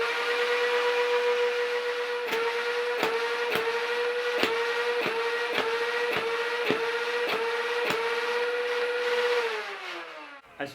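A modified Nerf Rival Zeus blaster's motors hold a loud, steady whine while about a dozen sharp shots crack in an even rhythm over a chronograph, before the whine winds down and a last thump sounds.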